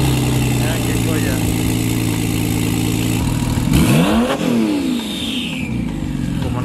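A turbocharged car engine idles with a steady, loud throb, then revs sharply in rising and falling sweeps before settling again.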